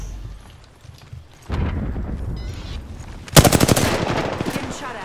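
Rapid automatic gunfire from the video game Apex Legends breaks out loud and close partway through, a dense burst of repeated shots over a busy battle background, with no talking.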